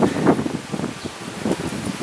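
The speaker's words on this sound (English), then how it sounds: "looks like we're gusting up for some typhoon weather" Gusty typhoon wind in the Philippines, strong enough to blow small pieces of wood over, rushes and buffets close to the microphone in uneven surges with a rustling edge, no voices.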